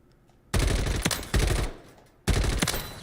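Gunfire from a weapon in MW3 Zombies, fired in three loud, close bursts of rapid automatic shots separated by short pauses.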